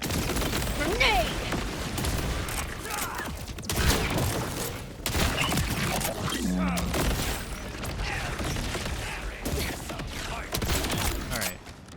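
In the Borderlands shooter game, a grenade goes off as a sharp boom inside a dense, loud spell of rapid gunfire, with clanks and other impacts mixed in around it.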